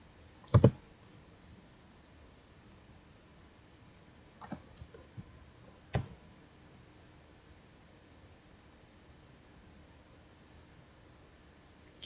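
A few sparse keystrokes on a computer keyboard while a download command for WordPress is entered on an Ubuntu Server 20.04 machine, heard as a sharp double click and then some softer, scattered taps over faint steady hiss, with no talking.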